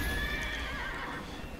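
A horse in the fantasy role-playing game Neverwinter lets out a loud, close whinny lasting under two seconds, with a faint clop of hooves beneath it.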